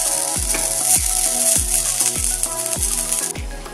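Green chillies and cumin sauté in hot oil for Kolhapuri mirchi thecha, a steady loud sizzle broken by regular clinking scrapes of a spoon stirring the pan, with no talking.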